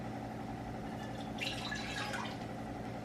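A cup of water is poured into a pot for steaming carrots, kale and broccoli, a soft trickling splash over a steady kitchen hum.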